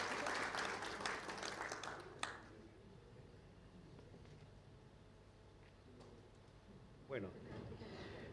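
Applause from an audience after a presentation: a short burst of clapping that fades out after about two seconds, followed by quiet room tone with a few faint thuds and a brief voice near the end.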